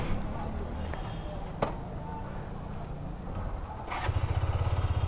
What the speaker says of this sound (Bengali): তো কেটিএম অস্ট্রিয়ান ভার্সনেরও যথেষ্ট লাউড